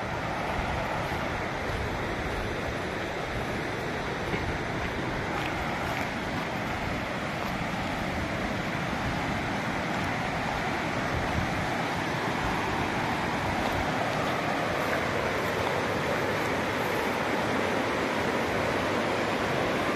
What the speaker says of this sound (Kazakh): Мына Көксу өзені кәдімгідей қатты ағып тұр.